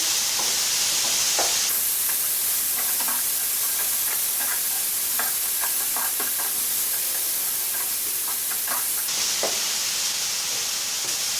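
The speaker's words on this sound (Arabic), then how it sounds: "من بعد ما تشحرت ليا الخضر جيدا وكذلك قطع الدجاج، كنضيف اخر مرحله كنضيف هو داك المعدنوس اللي مقطعاه شويه باين، ثم كنحرك الكل" Vegetables, chicken breast pieces and chopped parsley sizzle in a frying pan for a tortilla filling while being stirred, a loud continuous hiss broken by repeated spatula scrapes and clicks; no one speaks.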